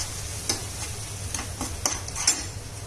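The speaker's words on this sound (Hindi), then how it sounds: "और इन्हें अच्छे से मिला लेंगे।" Spices such as black pepper powder and Kashmiri red chilli being stirred into okra for bhindi masala in a pan, giving soft repeated scraping strokes over a low steady sizzle.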